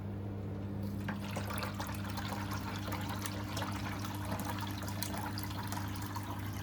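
An LG washing machine drains water after an OE error fix, giving a steady low pump hum with continuous gurgling, splashing flow that stays even throughout.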